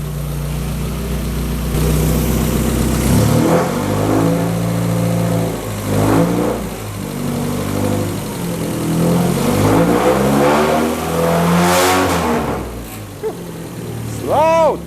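A car engine just back from a radiator repair warms up nearby, idling loudly with repeated throttle blips that rise and fall in pitch, and a voice speaks briefly over the rumble.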